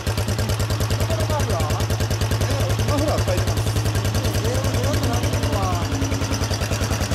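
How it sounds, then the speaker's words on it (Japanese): A Kawasaki Estrella 250 motorcycle with an aftermarket muffler idles close by, its engine thumping in a steady rapid pulse throughout, with people talking over it. "どうぞエンジンかけてもらえますか。"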